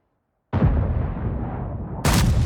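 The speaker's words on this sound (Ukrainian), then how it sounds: "він дуже агресивно пострілює сюди" Heavy tank cannon fire in World of Tanks, with a Maus or E 100 super-heavy tank on the Sand River map: a loud sudden blast after a moment of silence, then a long rumbling decay, and a second sharp crack near the end.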